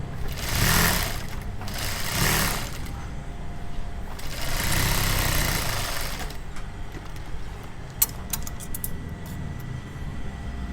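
A sewing machine reinforces a seam while reshaping a shirt, running in several bursts of a few seconds each with pauses between, then a few sharp clicks near the end.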